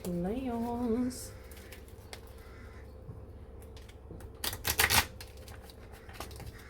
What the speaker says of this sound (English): Can you hear the crows fighting outside?